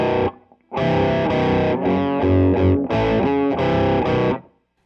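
Heavily distorted electric guitar riff, loud and close, chugging in several bursts with short gaps, then stopping abruptly into silence.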